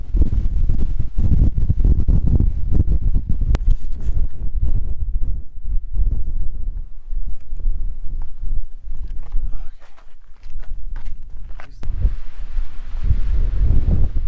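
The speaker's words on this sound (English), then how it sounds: "the wind's just blowing out of the canyon at you" Strong wind blowing out of a canyon roars and buffets continuously, loud and close, gusting throughout with no voices.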